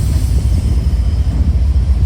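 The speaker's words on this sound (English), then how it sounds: "Our first train, M584. He had just finished his work here at Sequatchie Yard and was pulling out as we got there." Freight train M584 pulls out of Sequatchie Yard, producing a loud, continuous low rumble close by with no voices.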